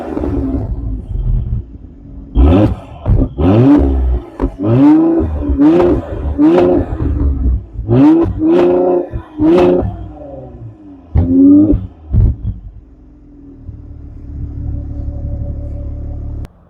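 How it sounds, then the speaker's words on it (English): A Mercedes-Benz GLC 43 AMG SUV's exhaust barks through a series of sharp, loud revs, each rising and falling quickly in a rapid cluster, then settles into a lower rumbling idle near the end. "I've already shown you these exhausts, but how about we take a listen and treat our ears."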